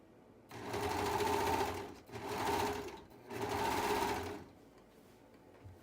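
A sewing machine stitches through four layers of hoodie fabric in three loud bursts of steady running, with brief pauses between them and no talking.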